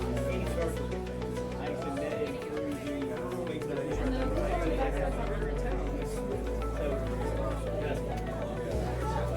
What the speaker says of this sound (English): just look at this crowd